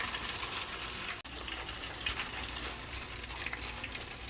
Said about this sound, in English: Deep frying some chicken.